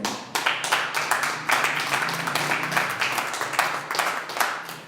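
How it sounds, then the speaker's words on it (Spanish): A church congregation claps for the Lord, a mix of crisp individual claps that swell into moderate applause, fairly close and steady. "Denle un aplauso al Señor."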